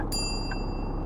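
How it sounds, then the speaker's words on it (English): A bus stop bell rings once inside a bus in Bus Simulator 16, a short clear ding over a steady low engine drone. "Or bus stop bell."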